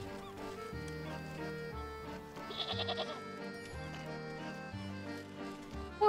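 A sheep bleats briefly midway through, a short quavering call sitting over steady, looping background music in the cozy crafting video game Wytchwood.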